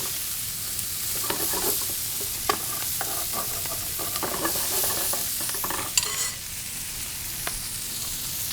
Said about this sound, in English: You can start to really smell the shallots getting toasted off in this bacon fat and olive oil